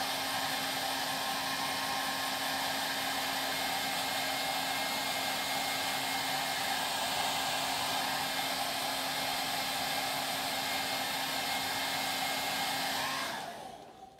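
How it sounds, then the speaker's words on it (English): A hair dryer blows hot air onto sculpt-gel prosthetic makeup for an electrical burn effect, a loud, steady, close whirring roar for about thirteen seconds before it switches off and winds down at the end. "Big thing is don't keep the hair dryer there all the time because you might burn the person."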